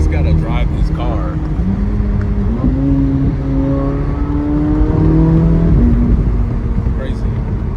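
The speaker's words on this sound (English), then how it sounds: "those downshifts are insane" A loud Chevrolet Corvette C8 Z06 engine revs and drops in pitch through repeated downshifts, with a steady drone and rising and falling tones close by.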